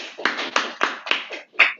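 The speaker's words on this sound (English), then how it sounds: "Round of applause" A small audience at a startup demo day claps in about six uneven bursts over under two seconds, moderately loud and close, with no talking.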